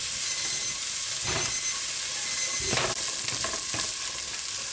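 Aromatic vegetables sautéing in a two-handled soup pot for lentil soup, a loud close hissing sizzle broken by several scraping stirs, with no one talking.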